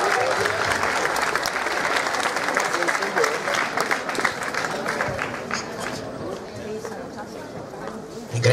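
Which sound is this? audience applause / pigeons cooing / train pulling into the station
audience applause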